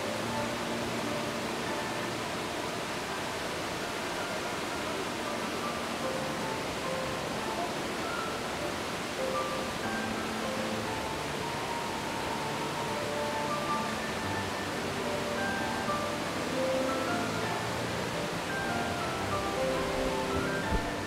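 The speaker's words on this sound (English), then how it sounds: "Clearwater was more of a bunch of little waterfalls put together." A cluster of small waterfalls at Clearwater on the North Umpqua River, a steady broad rush of falling water that holds constant and unbroken throughout.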